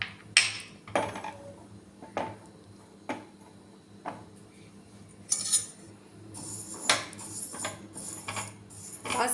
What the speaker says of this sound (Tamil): அதே சட்டியில் பாசிப்பருப்பை வறுக்கணும்.